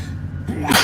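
A single sharp human sneeze, heard close and loud inside a truck cab on the road, brief and abrupt with no talking around it.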